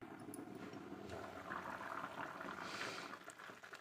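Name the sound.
curry boiling in a pot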